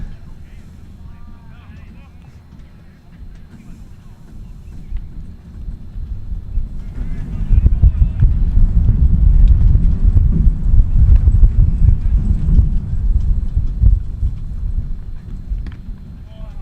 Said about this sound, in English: It's got to be hard to pitch in this wind like that, those gusts coming through.